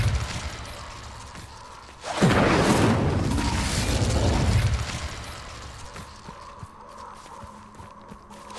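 Casting the Incendio fire spell in Hogwarts Legacy gives a sudden whooshing burst that flares up and roars for a couple of seconds before fading into quieter background game sounds.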